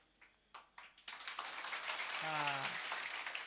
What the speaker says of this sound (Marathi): यांच्यासाठी पोरांसाठी एकदा टाळ्या होऊ द्या